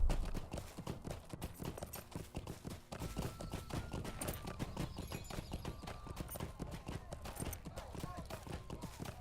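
A horse ridden in Lord of the Rings Online clip-clops at a brisk, steady pace, with continuous close hoofbeats running the whole way under a voice talking.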